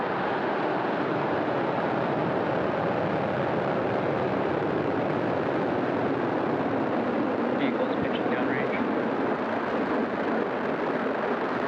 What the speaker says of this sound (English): Ignition and liftoff. Go Falcon, go Starlink.